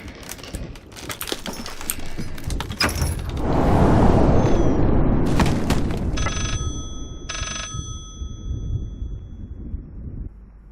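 A telephone bell rings in the horror video game Layers of Fear, coming in two short, bright bursts after a stretch of loud, rumbling ambient noise. The rings sound fairly clear over the fading background.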